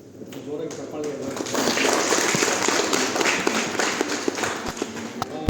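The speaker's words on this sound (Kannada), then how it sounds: "ಜೋರಾಗಿ ಚಪ್ಪಾಳೆ." Loud applause from guests at a Karnataka insurance company's team get-together party, clapping swelling after a second and holding as a dense patter, with a voice speaking over it.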